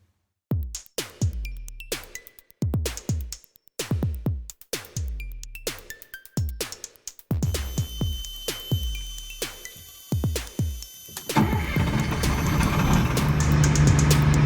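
An FMTV military truck, fitted with modified shock absorbers, rumbles through a test drive, its engine and heavy chassis giving repeated thumping surges and clunks, then a steadier, louder broadband roar of driving near the end, with no talk.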